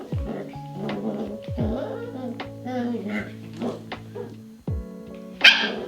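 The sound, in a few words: puppy Bailey barking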